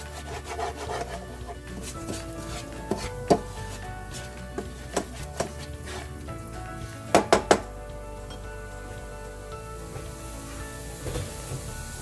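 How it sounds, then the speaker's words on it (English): A utensil scrapes stuck onion bits off the bottom of a pan cooking shrimp masala, with repeated rough rubbing strokes and a few sharp scraping clatters, close and clear, with no voices. "Scrape the bottom of the pan to make sure that any of the stuck bits of onion is scraped off."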